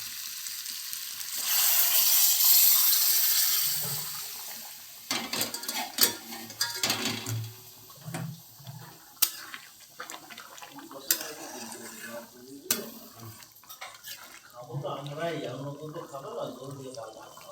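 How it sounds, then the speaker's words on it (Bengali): Hot water poured into mutton curry cooking in a pot, a loud rushing sizzle at first, then scattered clinks and scrapes of stirring with occasional bubbling. "এই ব্যবস্থায় আমি দিয়ে দেবো গরম জল।"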